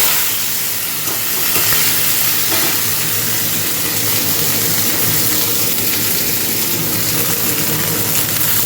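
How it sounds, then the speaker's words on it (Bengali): Vegetables frying in hot oil in a wok for egg vegetable noodles, a loud, continuous sizzle and hiss that stays dense and steady throughout, with faint stirring underneath and no talking. "এখন সবজিটাই ফ্রাই করে নেব, সবজিটাই আগে দিয়ে দিচ্ছি।"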